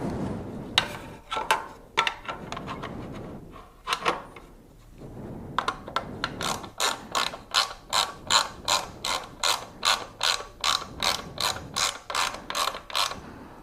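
Metallic clicking and ratcheting as an Akrapovic GP slip-on exhaust is worked onto a 2016 Yamaha R1, starting in scattered bursts then settling into a steady run of close, evenly spaced clicks, with no talking.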